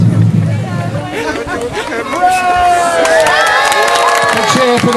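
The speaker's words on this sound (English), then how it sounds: "A cheer for the Queen and Prince Philip as they take to the podium" A crowd at the Lyme Lympics in Lyme Regis cheers the Queen and Prince Philip as they take the podium, a loud, sustained swell of whoops, shouts and children's voices over general chatter.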